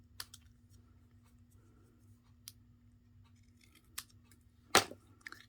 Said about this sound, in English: Again, with your little snips.